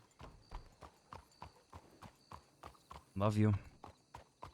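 Horse hooves clip-clop at a steady walking rhythm in a Wild West roleplay video game, close and clear, with a brief loud whinny near the end and a voice speaking over them.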